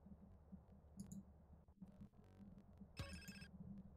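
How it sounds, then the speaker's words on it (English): A cell phone rings in the video game GTA San Andreas Definitive Edition, short electronic ringtone bursts over a low game ambience with a few clicks. "I gotta answer my phone"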